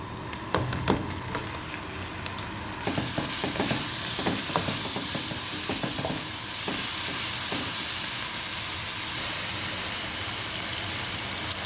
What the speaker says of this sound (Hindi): चिकन को अच्छी तरह से भून लिया है और चिकन में सिर्फ मैंने नमक ऐड किया है मज़ीद